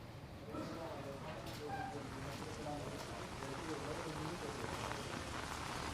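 Heavy rain falling in Jaipur, a dense continuous hiss of downpour on surfaces that holds steady throughout, with faint voices underneath.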